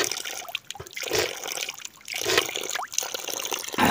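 Natural mountain spring water trickles and splashes nearby in uneven bursts, rising and falling across a few seconds.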